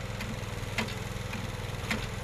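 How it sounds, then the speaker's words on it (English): A small engine powering the lowering of a 5 kW wind turbine runs at a steady, rough mid-pitched drone, with a couple of brief sputtering coughs breaking through, heard alone at moderate distance. "There's a little cough from that engine then."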